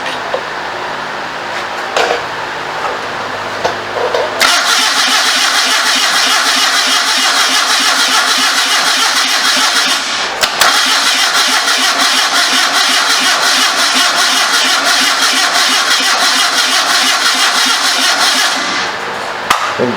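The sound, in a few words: 1974 Datsun engine on homemade motorcycle trike starting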